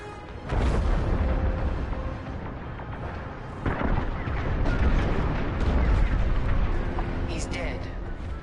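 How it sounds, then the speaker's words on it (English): A frigate explodes in Star Wars Squadrons, a long roaring blast with rumbling booms and crackling debris that swell and linger over several seconds, loud and continuous, with voices speaking partway through. "The frigate is about to explode!"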